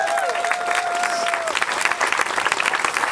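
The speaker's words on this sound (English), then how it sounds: "So, one more round of applause for April." A crowd at a benefit event applauds steadily, dense clapping filling the room, with a brief whistle-like tone and faint voices at the start.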